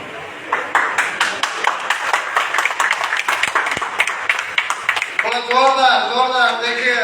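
Audience at a Vestige meeting breaking into rapid, dense clapping to welcome a speaker, loud and close, before a voice takes over near the end.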